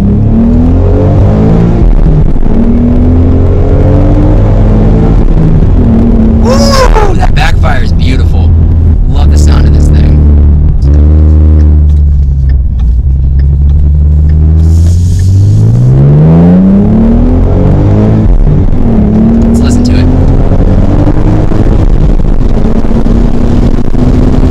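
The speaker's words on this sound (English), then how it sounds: "We're gonna do a few pulls." A 2016 V6 Ford Mustang engine roars through repeated pulls, loud and close, its pitch climbing and falling as the revs rise and drop over about 25 seconds.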